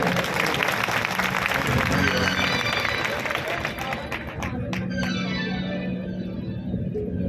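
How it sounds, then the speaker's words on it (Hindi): A bhajan gathering claps loudly for Maharaj ji, a thick wash of applause mixed with crowd voices and background music that gradually thins. "महाराज जी के लिए एक बार जोरदार तालियां बजा।"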